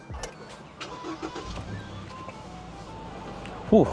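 A GWM Tank 300 SUV engine cranks and catches near the end after a push-button start, with faint cabin noises and a brief voice beforehand.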